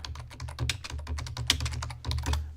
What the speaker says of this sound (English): sorry, I shouldn't to be typing in your ear like that